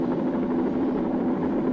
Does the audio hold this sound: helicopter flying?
yes